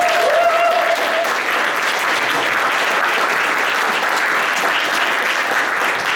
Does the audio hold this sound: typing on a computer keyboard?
no